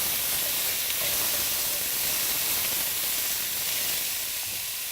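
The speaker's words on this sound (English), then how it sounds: "So I'll stir the peas and carrots around just so that they can start to cook down" Peas and carrots sauté in hot oil while being stirred, giving a steady, close, broadband sizzle and hiss that holds evenly throughout with no voices.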